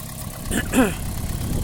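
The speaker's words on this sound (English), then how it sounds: "I've got the engine running" A Toyota Prius NZ-FXE engine idles with a steady low rumble, and a brief vocal sound rises over it partway through.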